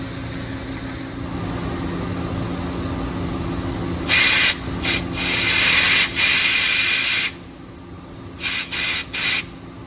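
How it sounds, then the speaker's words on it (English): An air compressor nozzle sends loud, hissing bursts of compressed air through a fuel filler tube on a 2002–2006 Cadillac Escalade, several blasts of varying length starting midway, over a quieter background hum. "I'm gonna go ahead and get the air compressor and blow one of these right through"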